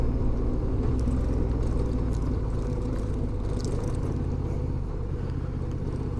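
Honda Transalp motorcycle riding the washboard gravel of Cascabel road in Arizona, a constant deep engine rumble with road and wind noise, steady and close throughout, no voices.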